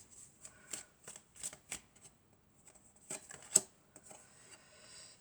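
Tarot cards being shuffled by hand, a series of crisp riffling bursts with short pauses between them, close and fairly quiet, with no talking.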